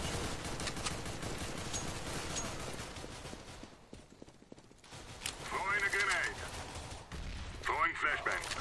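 Rapid bursts of gunfire ring out in a Counter-Strike competitive match, with loud clustered shots and scattered distant pops amid other game noise and player voices.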